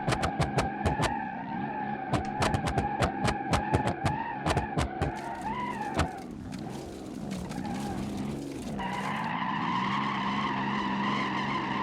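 In BeamNG.Drive, a car with its front tires stuck turned left screeches loudly, first in rapid repeated chirps and then as a long sustained squeal over engine drone, with a voice reacting briefly.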